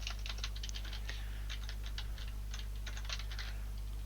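Quick, light typing on a computer keyboard comes in rapid irregular bursts of clicky keystrokes, fairly faint over a steady low electrical hum.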